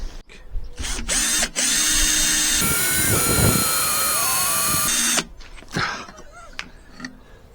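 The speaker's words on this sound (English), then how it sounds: "You can drill it, but you can't undrill it." A power drill whines steadily as it bores into metal on a Lifan King motorcycle, its pitch wavering under load, bracketed by clicks and handling clatter before and after.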